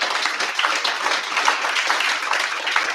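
An audience at a startup fireside chat claps steadily, a dense wash of applause from many hands, fairly loud and sustained throughout.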